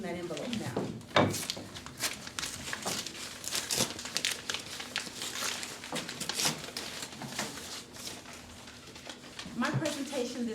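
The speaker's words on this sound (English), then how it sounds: "you can go ahead and open that envelope now" A sealed paper envelope is torn open with crinkling and rustling paper over several seconds in a room, mixed with a voice talking.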